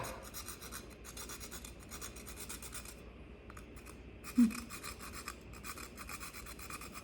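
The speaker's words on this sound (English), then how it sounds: "I'm also going to grate a little nutmeg over the top of it." Nutmeg being grated over a cocktail, a series of quiet rhythmic rasping strokes in short bursts with a small tap partway through.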